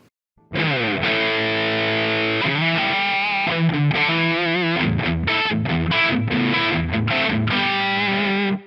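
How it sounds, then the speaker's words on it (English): Stratocaster-style electric guitar through its built-in distortion effect plays sustained chords, then choppy muted stabs and short riffs, loud and close with no talking. "let's try the distortion channel"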